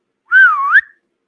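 A person imitates a whistle heard in the woods with a single clear human whistle, close and loud, lasting about half a second and gliding down and then up in pitch, alone in silence.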